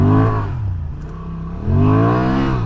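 A Honda Transalp 750 motorcycle engine revs hard at full throttle, close and loud, with rising harmonic pitch sweeps, a brief easing midway, then a second strong surge.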